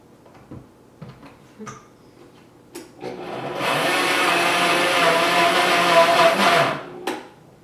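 A blender whirs steadily at full speed for about four seconds, processing raw sugar cookie ingredients, after several short knocks and clunks that come before it and a brief one after it stops.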